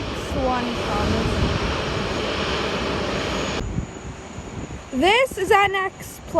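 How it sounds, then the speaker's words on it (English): Qantas Boeing 787-9 arriving at Sydney Airport, its steady engine roar filling the air before cutting off abruptly, followed by brief bursts of rising whine and wind noise. "This is our next plane, Qantas 100 Boeing 7879, arriving from Johannesburg, QS 64."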